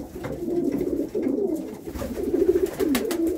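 Several pigeons in a breeding loft coo in repeated soft, rolling phrases close by, overlapping in a continuous murmur with faint rustling and no speech.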